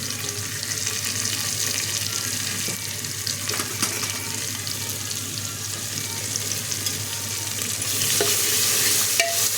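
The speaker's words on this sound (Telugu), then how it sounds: "ఇప్పుడు కొత్తిమీర, పుదీనా తాలింపు పెడతాను." A tempering of coriander and mint frying in a pan makes a steady close hiss and sizzle, with faint stirring clicks, and grows louder near the end.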